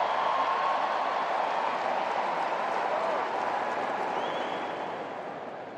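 A packed US Open tennis crowd stands and applauds at set point for Coco Gauff, a steady wash of clapping and cheering roar that holds level and then eases slightly toward the end.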